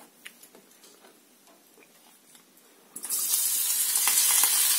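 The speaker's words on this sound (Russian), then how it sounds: "на разогретую сковородку наливаем растительного масла" Faint ticking and light clicks, then a sudden loud sizzle as vegetable oil hits a preheated frying pan and keeps crackling steadily.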